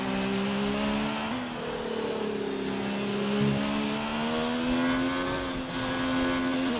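A Red Bull race car in a racing video game passes on track, its loud, high-pitched engine whine holding and shifting steadily as it sweeps by, alone without talk.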